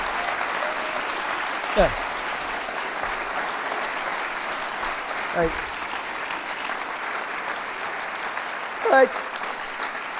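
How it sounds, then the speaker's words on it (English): Audience applause at the close of a retreat session, steady crowd clapping under a few brief spoken words from someone nearby. "let's give a round of applause. Or a hand."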